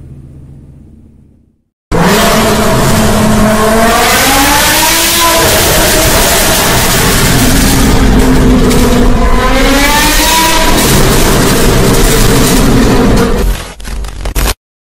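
A Mitsubishi Xpander Cross engine starts abruptly after a brief quiet moment, then settles into a loud, steady idle with some rising revs before cutting off.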